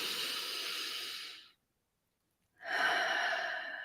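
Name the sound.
breathing in and out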